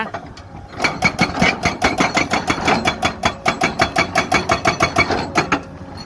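A hydraulic breaker on a Komatsu PC200-7 excavator hammers a large rock mass in a quarry, giving a steady, fast series of loud percussive blows close by, starting after a short pause.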